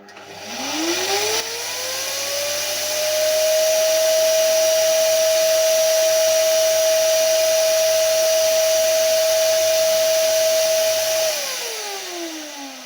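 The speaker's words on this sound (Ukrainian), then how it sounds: "Зараз я вімкну пилосос, подивимось, як навантаження буде підійматися, а потім опуститься." A household vacuum cleaner in an apartment switches on, its motor whine rising in pitch over about two seconds, holding a loud steady tone for several seconds, then winding down as it is turned off.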